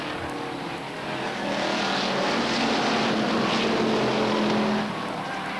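Stock cars race at Beech Ridge Motor Speedway, a steady, loud wash of engines that swells after the first second and holds before easing off near the end.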